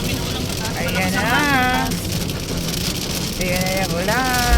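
Steady rain and road noise inside a car on a winding mountain road in the Philippines, a continuous wash heard while people talk over it throughout.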